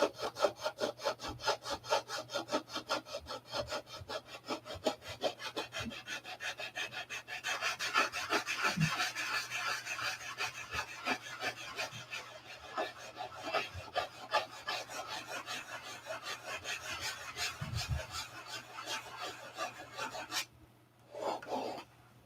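Hand sanding of a wooden workpiece, a steady rasping rub in quick repeated strokes that builds louder in the middle and stops near the end, close and alone with no talk.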